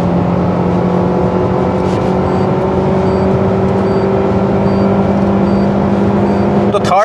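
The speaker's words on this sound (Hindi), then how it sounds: "84-85 की स्पीड आती है सेकंड गियर में मैक्सिमम" A Maruti Suzuki Baleno facelift from 2022 pulls hard in second gear, its engine droning at a steady, loud, rising pitch heard from inside the cabin for several seconds.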